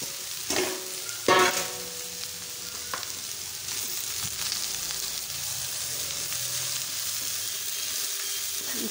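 Finely chopped chilies and fenugreek leaves go into a hot pan for methi sabzi: a couple of sharp clatters, then a steady, soft sizzle of frying that continues without talk.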